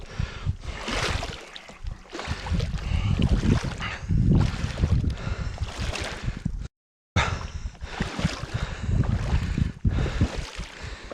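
Strong wind gusting across open water where a tent is being blown and dragged, with steady loud buffeting and rushing noise throughout, broken by one brief silent gap.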